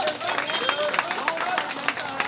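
Crowd clapping in support at a political gathering in Ekangarsarai, Bihar, a dense, steady patter of many hands mixed with voices and crowd babble throughout.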